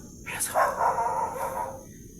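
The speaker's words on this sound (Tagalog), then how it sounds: "May aso." A single drawn-out dog bark or howl from a distance, faint and slightly echoing in an otherwise quiet setting.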